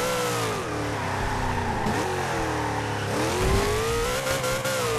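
A car drifting in Forza Horizon 2, its engine revving high and sustained with pitch sliding up and down through the turn, loud and continuous without speech.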